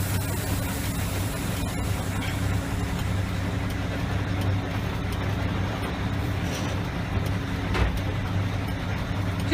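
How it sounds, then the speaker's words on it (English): A tractor-trailer truck creeps forward in first gear, a steady low engine rumble with broadband road hiss and a faint bump or two, heard close and without talk. "Just gently move the vehicle."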